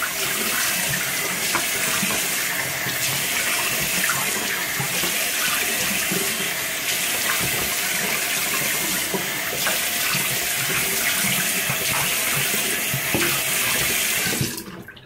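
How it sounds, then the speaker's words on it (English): Steady tap water runs into a bathroom sink during face washing after a shave, a continuous close, loud splashing stream that stops abruptly near the end. "All right, I'm gonna wash my face once again."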